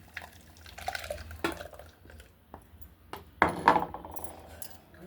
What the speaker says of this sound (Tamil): இதை இப்படி ஒரு ஜல்லடையில் வச்சு ஊற்றிடணும்.